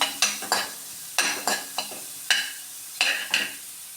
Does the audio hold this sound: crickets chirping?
no